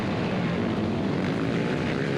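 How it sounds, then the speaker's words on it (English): Quad ATV engines roar during an evening race in Okeechobee, Florida, a loud, steady, dense engine drone that fills the whole moment without any talk. "I know a lot of you guys just want to hear those engines rip"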